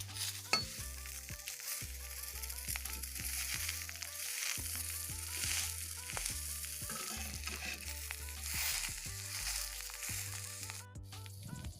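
Heart leaves (masondori) cook in a pan, a close, steady frying sizzle with intermittent stirring scrapes and clinks of utensils against the pan, no voices.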